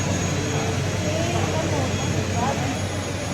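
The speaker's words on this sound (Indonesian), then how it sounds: "Dan sudah ini pesawat sudah datang." Jet airliner at an airport on arrival, a steady loud broadband engine roar filling the scene throughout, with faint voices mixed underneath.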